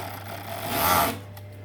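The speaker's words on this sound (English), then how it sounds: "And then you can do your overlock around your other sleeve end." An overlock sewing machine stitches around the sleeve end of a cowl neck knit top, a brief close whirring rasp that swells for about a second and then eases off.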